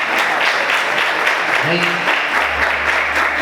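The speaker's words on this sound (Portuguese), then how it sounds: "Aplauda o Senhor com bastante alegria." A church congregation applauds with steady, dense clapping throughout, a brief spoken word rising over the crowd midway.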